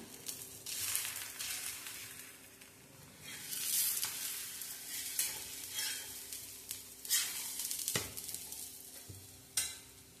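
A potato-stuffed wheat flatbread roasts in oil on a pan over a low flame, giving a soft, steady sizzle with repeated scraping and pressing strokes of a spatula, a few sharper clicks, fairly quiet and without talk.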